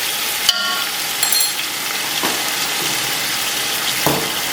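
Ginger and garlic paste frying in hot oil for chicken biryani, a loud, steady close sizzle with occasional scrapes and clinks of a spoon stirring the pan.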